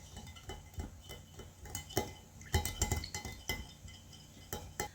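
Red food colour being stirred into buttermilk in a bowl for red velvet cake batter, giving a run of light clinks and taps of a spoon against the bowl, close and fairly quiet, with no voices.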